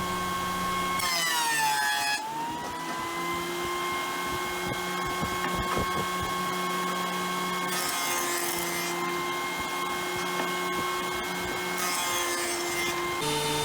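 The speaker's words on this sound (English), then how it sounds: "I'm going to joint one edge, one face and one edge, and then run them through the planer." A jointer and a thickness planer mill purpleheart wood boards, a steady loud machine whine with tonal motor hum, rising into harsher cutting bursts as boards feed through, repeating several times with no talk.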